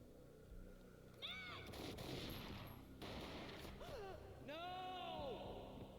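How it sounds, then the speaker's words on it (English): A gunshot in the PC shooter Max Payne booms out amid layered game sounds, including tonal sweeping effects and a continuous background bed, with no talking. "A gunshot boomed and she fell down in slow motion."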